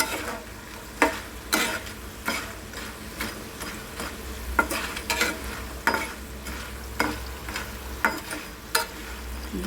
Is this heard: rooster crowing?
no